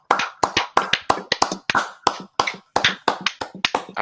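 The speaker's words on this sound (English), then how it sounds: "we're going to have a minute's applause for Claude" Crowd applause at a football match: a minute's tribute during Newcastle versus Tottenham, heard as sharp rhythmic clapping in regular bursts, close and loud, with no voices.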